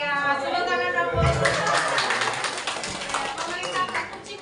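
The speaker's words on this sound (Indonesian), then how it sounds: "Tepuk tangan dong Bu" Scattered hand clapping from parents and children at a school report-card and year-end performance event, with voices talking and chattering over the claps.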